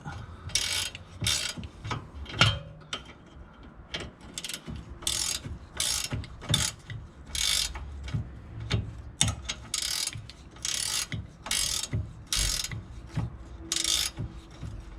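Ratchet wrench clicking while working under a VW Golf 5 1.9 TDI, in repeated bursts of rapid close metallic clicks with short pauses between strokes, alone without talk.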